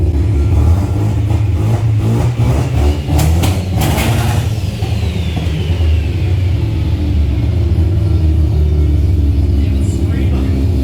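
A flooded Mazda RX-7 rotary engine idles roughly with a loud, uneven, pulsing rumble, close by and constant, with a few brief rising revs early on and people talking over it.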